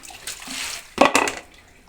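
Water is poured over drumstick pods being washed in two short splashy bursts, the second louder and closer, with quieter trickling between them.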